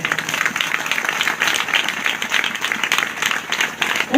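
Audience at a Christian sermon gathering clapping in a steady, dense burst of applause, fairly loud and continuous throughout.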